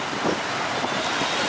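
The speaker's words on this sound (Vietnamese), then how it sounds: "gió to thổi bay cả dù luôn." Strong wind buffets the microphone on a busy street beside a food stall in Saigon, a loud continuous roaring rush with no talk.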